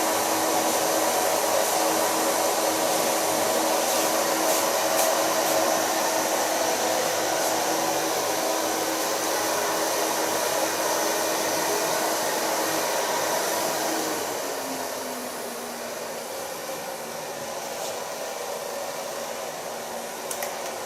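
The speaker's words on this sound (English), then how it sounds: "So far blow drying." A hair dryer blows steadily and close by while hair is dried after a new color and side and nape shave, its even whoosh running throughout and softening slightly in pitch and level near the end.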